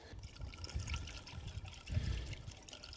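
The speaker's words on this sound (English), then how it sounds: "I'm going to put water in it." Water trickling and pouring into an empty plastic screen-wash bottle in a car engine bay, a faint continuous gurgling fill lasting a few seconds.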